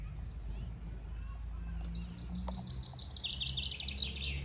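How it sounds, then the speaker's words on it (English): Bright bird song with trilling chirps rising over a low outdoor rumble, moderately faint and somewhat distant, by a churchyard near Ivinghoe Beacon, England. "You can hear the birds."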